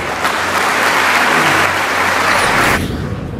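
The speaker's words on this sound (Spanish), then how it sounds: "Por favor, que ustedes mismos se den un gran aplauso" Loud, dense applause from a dinner audience at a chamber of commerce and industries business event in Bolívar, Venezuela, sustained for nearly three seconds before tapering off.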